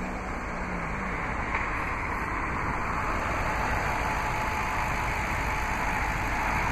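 A 2007 Audi S4 Quattro's 4.2-liter dual overhead cam V8 idles steadily, a dense continuous rumble and hiss that holds at an even level throughout with no talking.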